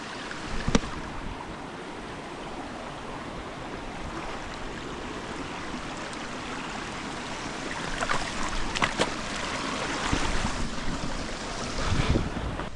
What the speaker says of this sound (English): It's going to be a little bit of a creek crossing.